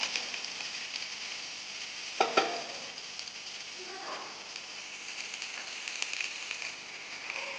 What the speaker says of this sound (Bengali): পটলটাকে এবার আমি একটু লাল লাল করে ভাজা করে নেব